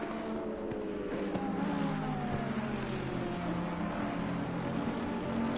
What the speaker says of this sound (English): that gorgeous sound of the Aston Martin's engine